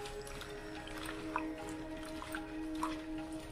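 Pigeon pea pods are rubbed and washed in water, with faint wet squishing and a few small drips and splashes close by in a quiet kitchen.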